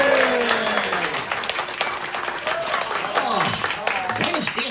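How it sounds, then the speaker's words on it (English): Audience applause and crowd noise at Disneyland as a master of ceremonies is welcomed, a steady wash of clapping and cheering lasting the whole stretch with voices mixed in. "Give him a huge round of applause."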